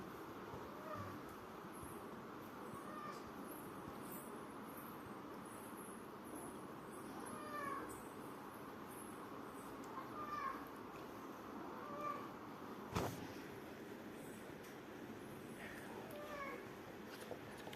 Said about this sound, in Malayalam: ബാക്ക്ഗ്രൗണ്ടിലൊരു പൂച്ചയുടെ സൗണ്ടൊക്കെ നമ്മുടെ വീട്ടിലെ പുതിയൊരു പൂച്ചക്കുഞ്ഞാണ്